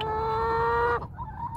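Backyard homestead chickens clucking and crowing close by, a loud sustained call that breaks off into softer clucks, with no talk.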